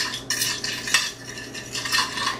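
Sugar and cinnamon being stirred together in a bowl with a metal utensil, a close series of scraping, clinking strokes that rise and fall across the moment, with no talking.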